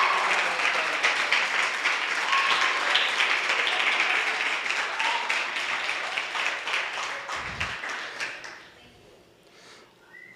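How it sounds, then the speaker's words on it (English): Applause at a women's bowling awards banquet, a room of people clapping steadily for several seconds before it thins out and fades to a few last claps. "let's give a round of applause"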